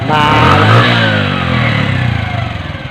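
Bajaj CT 100 motorcycle engine running after a home-service repair, a loud close putter with rising and falling revs, settling into a pulsing idle at the end.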